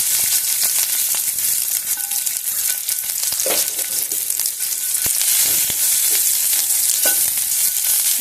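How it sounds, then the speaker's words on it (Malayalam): Garlic sizzles in hot coconut oil in a pan, a bright continuous crackle and hiss with occasional stirring scrapes and clinks, close up and loud with no talking. "നിറം മാറുന്ന വരെ ഒന്ന് വറുക്കുക."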